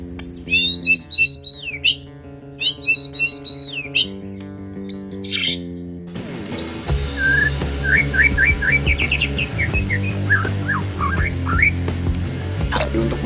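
A white-rumped shama (murai) songbird sings a run of quick, bright whistled chirps and trills. The song is close and clear and follows a short stretch of music.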